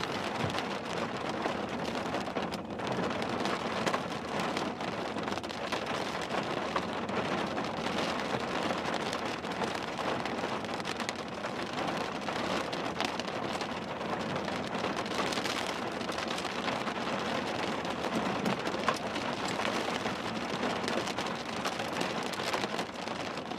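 Heavy rain pours during a storm chase in Minnesota, a dense, continuous roar of drops drumming on a vehicle that stays loud and even throughout, with no talking.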